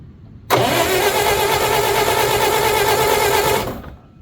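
A forgotten Bobcat's gasoline engine cranks on fresh 93-octane fuel, a loud, even, rapid churning that runs unbroken for about three seconds, then cuts off, with no voices.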